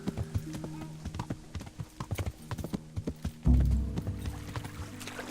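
Horse hooves clip-clopping in Kingdom Come: Deliverance, a steady rhythmic trot of sharp clacks that runs through the clip, with a heavy thump and a rumble partway through, under agitated talk.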